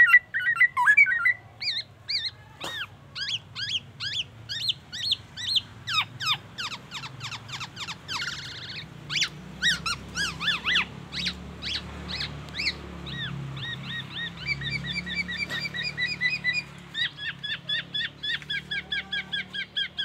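A golden oriole sings a long, varied run of whistled phrases and rapid chirps, mimicking oriental magpie-robin song and an ambulance siren's rising tone, loud and close.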